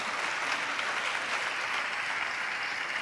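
A church congregation claps together during a sermon, a dense, steady wash of many hands filling the space at an even level throughout.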